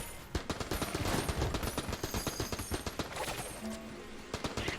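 AK rifle fire in the twin-stick shooter Enter the Gungeon, rapid bursts of loud, punchy shots in quick succession with brief gaps, dense and continuous over several seconds.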